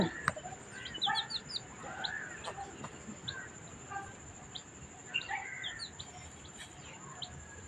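Chickens cluck and a rooster calls in short bursts, with small birds chirping faintly behind them and steady outdoor background noise.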